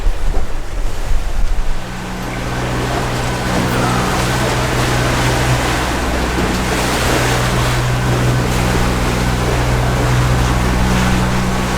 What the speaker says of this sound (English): So we are motoring now.